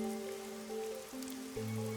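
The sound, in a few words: rain falling in the video game Rain Code Plus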